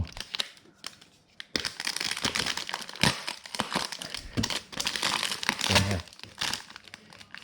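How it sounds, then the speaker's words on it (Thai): A Honda CB500X 2019-2020 motorcycle part is unwrapped from a crinkly plastic bag, producing close, continuous crackling and rustling bursts with brief pauses between handlings. "เนี่ยเป็นพลาสติกเดี๋ยวจะแกะ"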